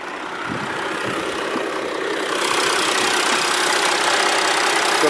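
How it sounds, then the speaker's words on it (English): Audi A5 2.7 TDI V6 diesel engine idling under the bonnet, a steady close mechanical ticking clatter that stays even and slightly rises in level midway, with no talk. "got the V6 ticking away."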